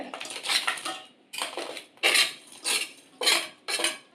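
Grated jaggery being added to cooked dal for puranpoli, heard as a series of six or so close metallic clinks and scrapes of a spoon against a steel vessel, separated by short pauses.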